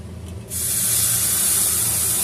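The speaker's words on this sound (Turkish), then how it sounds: "şerbetimizi ilave ediyoruz" Syrup poured into hot semolina halva in a pan, a sudden loud hissing sizzle that bursts in and holds steady, with no one speaking.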